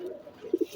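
A kept pigeon of the Tambay/Tambray fancy breed coos close by, a few low throaty pulses near the end of a brief moment, with no talk.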